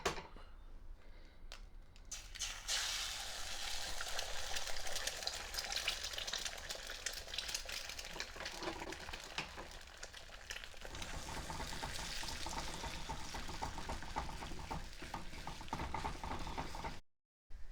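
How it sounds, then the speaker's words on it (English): An egg scrambles in hot oil in a pan, giving a continuous soft sizzle and frying hiss with faint stirring scrapes, quiet and close, with no talking. "Now once this heats up, let's break the egg and scramble it."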